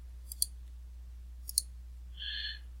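Mouse clicks on a computer while working in a spreadsheet program's File tab: two close pairs of crisp, quiet clicks, followed by a brief soft electronic tone, over a low steady hum with no talking.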